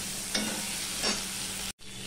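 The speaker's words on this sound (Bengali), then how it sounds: "তাই জন্য আমি এখানে বেগুনগুলো ভেজে নিচ্ছি।" Pieces of eggplant sizzle in hot oil, a dense, even frying hiss close by with a couple of brief surges and a momentary drop near the end, no voices.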